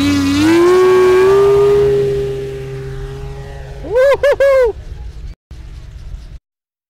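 The engine of a CMP Corsair on its maiden outing drones loudly and steadily at about half throttle, its pitch rising slightly before the sound fades. A few brief vocal bursts follow near the end.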